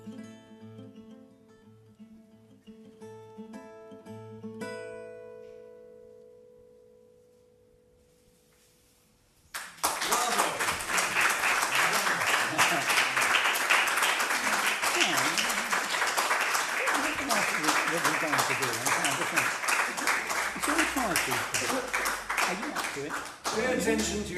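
Audience applause at a live guitar festival breaks out abruptly after a fading sustained guitar chord, then continues as loud, dense, steady clapping for about fifteen seconds.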